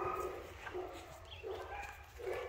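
A large female dog moving about yields repeated short barks and soft whimpers at close range, several bursts spread over a couple of seconds against steady background noise.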